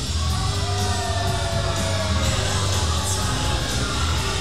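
A wrestling crowd at an independent UPW show in Santa Fe, Texas yells and whoops as a wrestler in pink and black enters the ring, a steady, loud roar of many voices filling the space throughout.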